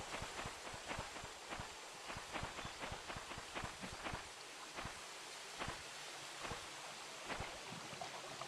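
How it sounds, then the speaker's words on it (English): Footsteps in The Painscreek Killings: a steady run of soft, evenly spaced steps, near and fairly quiet, over faint wind-like ambience, with no talking. "I feel like I'm hearing footsteps"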